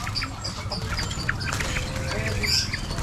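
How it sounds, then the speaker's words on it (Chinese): Many caged birds at a roadside bird shop in Java chirp and tweet in quick overlapping bursts, close and lively, over a constant rumble of roadside noise. "这种鸟叫声也挺好听的"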